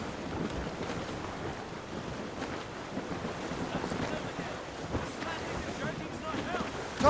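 Wind filling a sailing ship's sails at sea in the video game Assassin's Creed Rogue: a continuous, moderately loud rush of wind and water noise, broadband and steady, with a slight swell at the very end.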